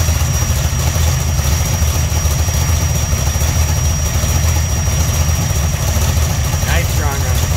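A 1982 Chevrolet Camaro Z28 engine runs at a steady, loud idle close by, a deep continuous rumble throughout, with a brief voice near the end.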